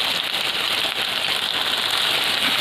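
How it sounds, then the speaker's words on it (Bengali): Ginger paste and tomato fry in a pan, giving a steady, dense sizzle with fine crackling that runs unbroken and close. "তো আমি এখানে আদা বাটা আর টমেটোটা দিয়ে আবারও ভালো করে ভেজে নেব, যাতে টমেটোটা গলে যায়।"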